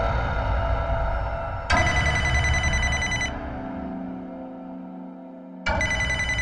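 A bright electronic ringtone plays in loud repeating bursts, pausing briefly before ringing again, with no voices.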